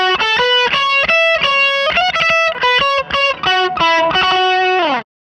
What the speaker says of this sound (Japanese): ここまでの手順でおおよその歪みができちゃいます